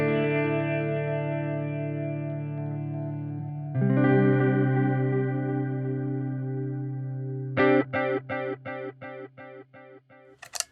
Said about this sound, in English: Let's introduce some flanger